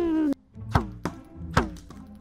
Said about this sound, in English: Let's see what happens when I shoot the minion with the potato cannon